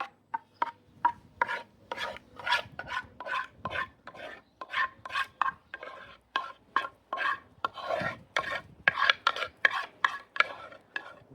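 Butterflied chicken being mixed by hand with marinade for chicken doner, a run of wet, squelchy rubbing and stirring strokes in quick irregular rhythm, close and fairly loud, with no talking.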